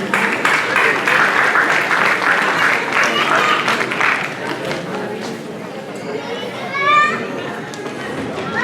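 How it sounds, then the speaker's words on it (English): Audience applause at a Diwali cultural program in Panama City, Florida, a dense, sustained wash of clapping from a crowd that fades after about four seconds, leaving murmuring voices and some speech above the hall noise. "Please give a big round of applause for Simran."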